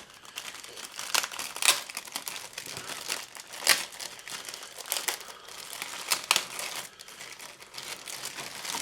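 A plastic bag holding model kit wheels crinkles and rustles close by in irregular bursts of crackling, with no voices.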